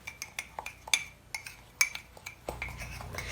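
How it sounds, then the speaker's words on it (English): A regular spoon clinking and scraping against a mug while stirring dry mug cake ingredients, a rapid run of light metallic taps and rattles, close and quiet. "Just use a regular spoon to stir them up."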